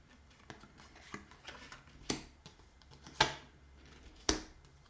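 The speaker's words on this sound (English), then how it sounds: "Sorry, you're just having to watch me shuffle." Tarot cards being shuffled by hand, giving soft scattered riffles and rustles with a few sharper snapping bursts, close and fairly quiet with no talking.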